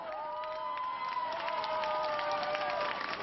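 Steady outdoor applause and cheering from a crowd as volunteers take down portraits of journalists Christian Chesneau and Georges Malbrunot from a building façade, a continuous moderately loud wash of clapping.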